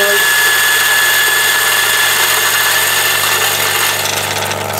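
A DF83 coffee grinder grinding 18 grams of coffee beans, a loud steady whirring motor hum that runs continuously throughout and eases slightly near the end.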